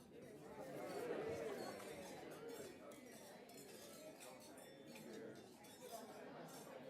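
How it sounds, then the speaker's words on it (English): Glasses clink faintly during a toast at an anniversary gala, scattered light chinks beneath the steady chatter of a crowded room. "please join me in raising your glasses as I toast Steve and NSCS"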